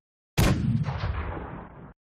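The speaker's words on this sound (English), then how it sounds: "The core attack and meat of the sound was taken from a close-mic'd cannon explosion from Boom's Black Powder sound library." Video game rocket launcher firing sound built on a close-miked black powder cannon explosion: a sudden loud, booming blast with a heavy low body that decays over about a second and a half, then cuts off.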